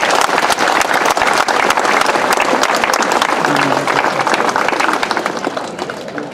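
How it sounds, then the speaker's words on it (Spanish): Loud, dense applause from a crowd at an outdoor bicentenary of independence celebration in Quebrada Yanatile, Peru, sustained throughout with scattered voices mixed in, tapering slightly at the end. "¡Palmas, compañeros!"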